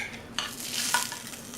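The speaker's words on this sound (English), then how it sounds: "I don't know if you can hear the sizzling, but it smells good and it's just out of the oven." Bacon and potatoes fresh from the oven sizzle in a steady, soft crackle, with a few brief brighter spits standing out over a low constant hiss.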